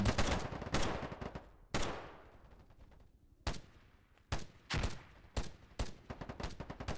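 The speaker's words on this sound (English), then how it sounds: "Who's shooting me from behind?" Gunfire in the online shooter Polygon on PC: repeated sharp shots and short bursts near the player's spawn, loud and close, spread across the whole stretch with brief gaps between volleys.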